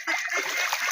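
Khaki Campbell ducks plunge into a river, a brief close burst of splashing and splattering water lasting about a second.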